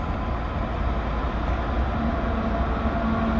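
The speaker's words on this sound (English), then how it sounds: "We got a freight train now heading west through the Pointe-Saint-Charles yards here." A westbound CN freight train, led by locomotive 3951, rolls through the Pointe-Saint-Charles railyard, giving a steady low rumble with a faint tonal hum, heard from a short distance.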